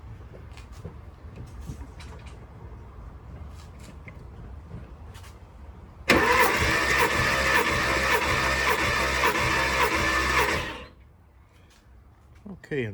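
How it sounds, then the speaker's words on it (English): A 1985 Porsche 928 S2 engine cranks over on the starter during a compression test, a loud rhythmic churning that runs for about five seconds after a stretch of quiet background and then stops. "And now we'll go ahead and crank the engine over."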